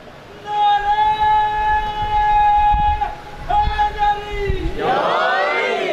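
A large crowd at a Muharram majlis in Azeemabad, Burewala chants a religious slogan in loud, sustained unison tones, a few long held phrases breaking off and swelling into overlapping cheering voices at the end.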